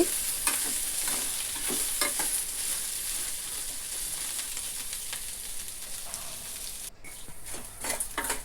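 Kakarakaya (bitter gourd) slices fry in a pan while being stirred, a close, continuous sizzle punctuated by repeated scraping and tossing strokes, with a short pause before the frying resumes.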